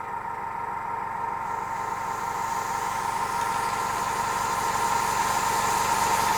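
A UGears wooden air engine runs on low-pressure compressed air with a steady rapid mechanical chugging under a constant hiss of air, loud and continuous throughout, with no talking.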